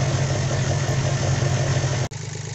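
A steady, low Volvo Penta boat engine idle in neutral drones on continuously with an even mechanical hum and slight vibration, briefly cutting out near the end.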